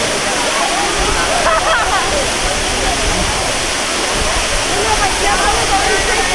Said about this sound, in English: there's the Waimea waterfall